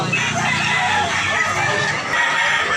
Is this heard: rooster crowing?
yes